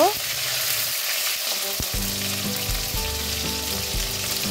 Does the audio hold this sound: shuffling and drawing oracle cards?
no